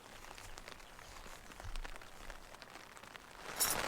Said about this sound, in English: Well, it's still raining quite hard.